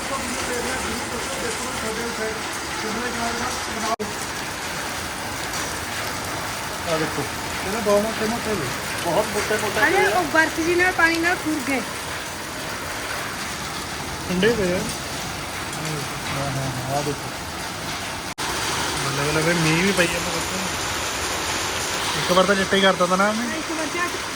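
Very heavy rain with hail pours down in a continuous broad hiss of falling water that stays constant throughout, while people talk over it at close range.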